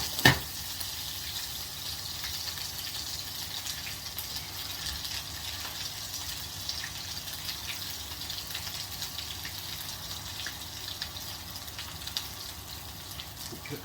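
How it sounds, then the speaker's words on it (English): Potatoes shallow fry in a bit of oil with an even, steady sizzle and fine bubbling crackle that holds throughout, close and moderately loud, with no talking. "This one I'm going to shallow fry with a bit of oil."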